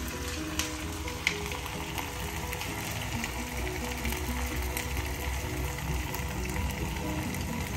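Food fries in hot oil over a low flame, giving a steady, even sizzle with faint crackles and a couple of small pops near the start, close and moderately quiet.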